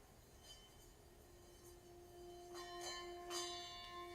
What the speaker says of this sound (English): So, this is the singing bell